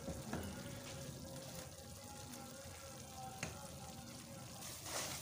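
Semolina dry-roasting in a pan over a low flame for halwa, giving a soft, steady sizzle and scraping stir at close range, with a few sharp clinks of a spoon against the pan.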